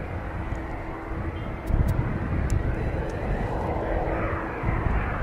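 An aircraft at East Midlands Airport sounds as a continuous broad engine roar at a distance that swells partway through, with faint background voices underneath.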